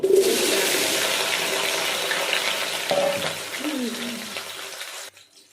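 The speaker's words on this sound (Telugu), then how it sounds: "సో ఇప్పుడు వీటిని ఫ్రై చేద్దాం." Chopped bottle gourd and other vegetables drop into hot oil with a loud, close sizzle that holds steady for about five seconds, then cuts off abruptly, while a faint spoon scrape is heard under it.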